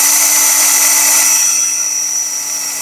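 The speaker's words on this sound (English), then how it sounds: "I'll go from this side where my pilot hole is" A power drill bores through wood from the pilot-hole side, a loud, close, high-pitched steady whine that eases slightly in pitch toward the end.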